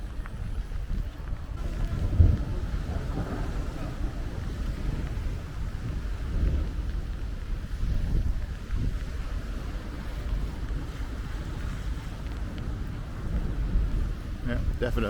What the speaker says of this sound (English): We've got thunder and lightning now.